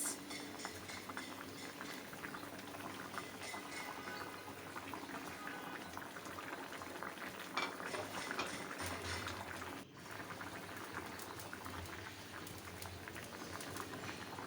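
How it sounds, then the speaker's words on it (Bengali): A curry of green tomato and shing fish boils in a pot, a faint, steady bubbling and hiss that carries on without pause, with a brief dip partway through. "তরকারিতে বলক চলে এসেছে"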